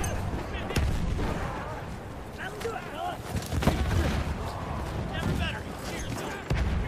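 Heavy tank cannon booms and gunfire in the Battlefield 1 battlefield, several loud blasts scattered over dense combat noise, with players talking over the action.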